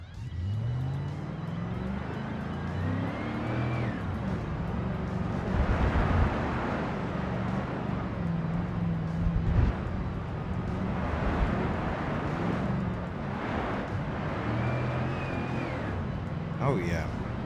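An old Ford Crown Victoria LX Sport, driven in BeamNG Drive, runs over dirt with a steady engine drone that rises and falls in pitch as it revs and shifts. The car stays close and loud throughout, with occasional bumps and thuds.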